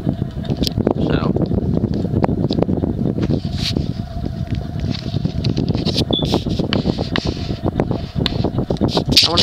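An antique Westinghouse Deluxe 58-inch ceiling fan from about 1909 runs on high speed at roughly 100 RPM, giving a steady close whoosh threaded with dense, irregular ticking and clicking.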